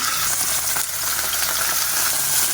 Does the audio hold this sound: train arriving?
no